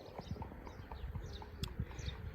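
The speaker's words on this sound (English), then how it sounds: "it's a real joy to come past and see these horses here" Horses walk along a fence in a small Sardinian town, hooves clip-clopping in an uneven, unhurried rhythm at moderate distance, fairly quiet with soft outdoor ambience.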